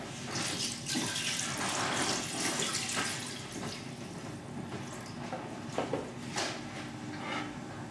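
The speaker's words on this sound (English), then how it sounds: "And then we will pour over our cold water" Cold water pours steadily into a stock pot, a continuous rushing splash with a few clinks and knocks of the pot.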